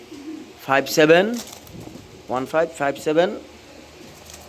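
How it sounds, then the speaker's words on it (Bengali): A pigeon being handled gives soft, low coos up close, mixed in with someone speaking over it in short bursts. "কবুতর।"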